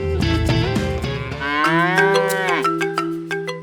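Cattle being herded into an open pen on a savanna ranch, with one loud, close, drawn-out moo, harmonic-rich and falling in pitch, plus a faint cowbell-like clink near the end.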